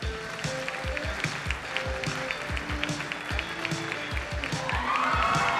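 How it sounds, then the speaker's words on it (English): A pageant crowd at the Miss Florida USA finale applauds steadily, dense clapping with rising cheers toward the end, filling the hall without speech on top. "the crowd erupts and cheers for Danielle Wasser representing Broward County"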